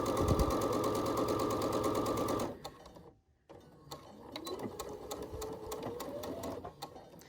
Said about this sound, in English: I don't take that piece out and I don't snip it I just keep sewing on to my next piece